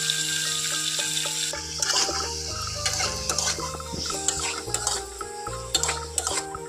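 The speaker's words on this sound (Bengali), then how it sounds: "খুব ভালো করে আলুগুলোকে ভেজে নেবো" Potato pieces with turmeric and salt frying in a pan for a jackfruit curry, clattering spatula stirs and clinks over a faint sizzle, with a steady tonal drone underneath.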